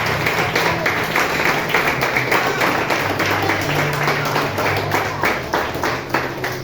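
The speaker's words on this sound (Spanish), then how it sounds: "Den un fuerte aplauso al Señor." A church congregation at a Spanish-language Christian service claps together in a steady, rhythmic burst, with brief voices mixed under the applause.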